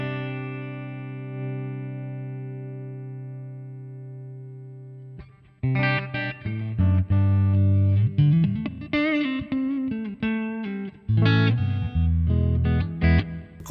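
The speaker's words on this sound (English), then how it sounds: "Here's a really clean jazz based on the JC120" Clean jazz guitar played through a Sonicake Matribox multi-effects unit on its JC120 amp model: a long sustained chord rings and fades for five seconds, then bright, articulate chords and single notes follow in an uneven rhythm, close and alone.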